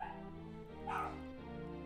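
A dog barks once indoors during a game livestream, a single short bark over a steady background of game music, not very loud.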